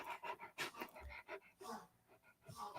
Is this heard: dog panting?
yes